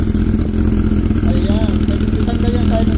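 Honda CB400 motorcycle with a silencer fitted, its engine running at a steady, close, loud idle for a few seconds while a person talks over it.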